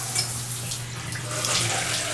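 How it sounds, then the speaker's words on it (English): A hotel shower at a San Antonio hotel runs into the bathtub, a steady close hiss of spraying water with a low hum underneath, continuous for the whole stretch with no talking. "push down to activate the shower"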